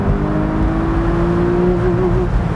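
A Porsche Boxster engine holds a steady, loud high-rpm drone with a wavering tone, as if bouncing against its 7,000 RPM rev limiter, continuous for a couple of seconds before easing slightly.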